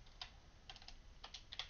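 Quiet typing on a computer keyboard during code entry, scattered clusters of light key clicks with short pauses between bursts, close and faint with no talking.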